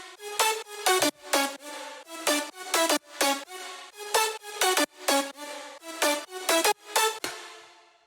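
A bright synth lead plays a future bounce melody alone, with short plucky notes in a bouncy, syncopated rhythm, each note sharply attacked and quickly decaying, with a clear tonal pitch.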